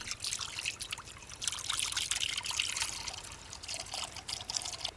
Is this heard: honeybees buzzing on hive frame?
no